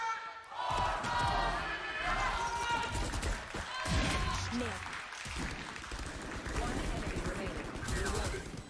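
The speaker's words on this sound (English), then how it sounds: "Crowd definitely behind them this time on map 2, especially with this start, Lauren." A live arena crowd at a VALORANT esports match of the VCT EMEA 2023 league roars and applauds, loud and sustained under energetic commentator talk and in-game gunfire sounds.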